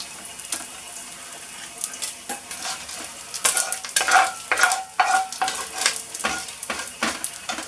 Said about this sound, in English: Try and leave as much oil in the pan as you can. So we can fry off the mushrooms.